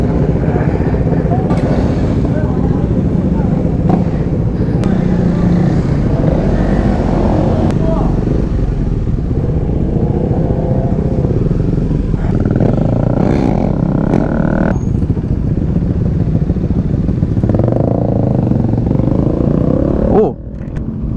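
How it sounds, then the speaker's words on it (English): Track motorcycles roar past on a race track during a track day, engine sounds rising and fading over a steady loud rumble, with people talking over them throughout. "Listen to those track bikes"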